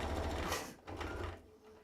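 Domestic sewing machine stitching down fabric on a three-zip pouch, a steady close motor whir in two short bursts with a brief pause between, no talk.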